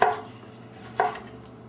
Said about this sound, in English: we're going to take it, we're going to slice it very thinly lengthwise